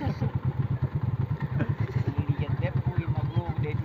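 Motorcycle engine running close by, with a steady throbbing pulse and loud rhythmic chugging throughout, mixed with light clatter and people talking over it.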